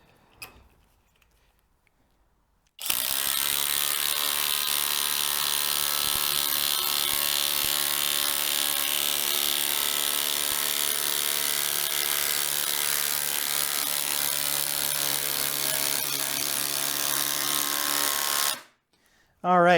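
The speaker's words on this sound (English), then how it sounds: "We have our 1/2 inch socket with adapter on the standard impact driver, which still has 4 bars of battery." A FLEX 24V brushless impact driver with a 1/2-inch socket on an adapter drives a 6-inch lag screw, giving a loud, continuous close-up hammering whine for about sixteen seconds before stopping.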